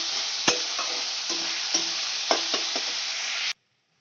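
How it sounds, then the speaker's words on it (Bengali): Onions with salt sizzle steadily in hot oil in a pan for a chicken curry, a constant close hiss broken by a few stirring scrapes before cutting off abruptly. "পেঁয়াজটা আমার খুব তাড়াতাড়ি ভাজা হয়ে যাবে"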